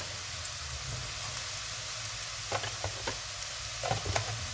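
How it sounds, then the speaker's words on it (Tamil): Onions sautéing in a pan until golden, a steady low sizzle with a few brief stirring scrapes near the end, close and fairly quiet. "வெங்காயம் வந்து நல்லா பொன்னுரம் பாரு மாதிரி வதக்கி எடுத்துக்கொள்வோம்"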